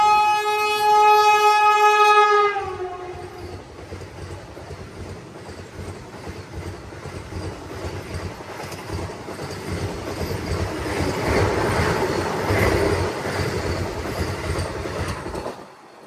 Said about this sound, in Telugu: మన ట్రైన్ స్టార్ట్ అయిపోయింది